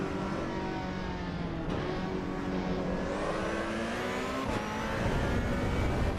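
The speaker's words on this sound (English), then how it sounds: "Ferrari sounds nice." A Ferrari race car engine in the Assetto Corsa EVO racing game drones loud and steady throughout, its pitch climbing and easing under throttle with other cars running nearby.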